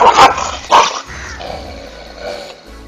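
A dog fighting off a rooster barks twice in sharp, loud bursts close by, then growls and whines lower and more softly for the rest of the moment.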